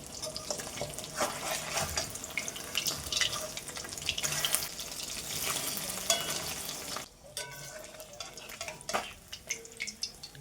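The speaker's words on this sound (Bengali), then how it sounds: "এখন কড়াইতে সর্ষের তেল দিয়ে মাছগুলোকে ভালোভাবে ভেজে নেব" Pabda fish fry in mustard oil in a kadai, a loud crackling sizzle with sharp pops and spatters, close up, easing briefly to a quieter hiss before crackling again; no talking.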